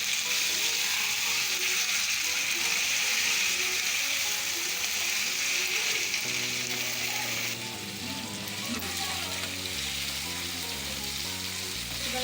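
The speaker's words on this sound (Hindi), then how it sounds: "चिकन को हम अच्छी तरह फ्राई कर देंगे।" Chicken frying in a pan, a steady bright sizzle that runs the whole time at an even level, with faint clinks and stirring noises underneath in the later part.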